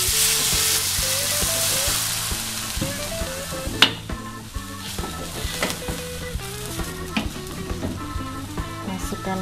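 Green beans sizzle in a pan over cooked spice paste for a young corn stir-fry as a little water goes in, giving a steady broadband hiss with a sharp burst partway through, all under continuous background music.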